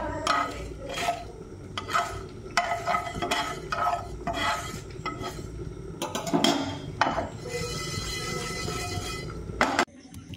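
Panch phoron spices heat on a hot tawa with a low continuous sizzle under repeated scraping and clattering strokes of a utensil against the pan, close and moderately loud.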